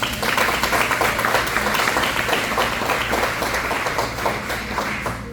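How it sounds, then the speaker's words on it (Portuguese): A church congregation claps together at a family service, a dense, steady roar of many hands close around, with brisk rhythmic patter that fades slightly toward the end. "Quem pode aplaudir Jesus?"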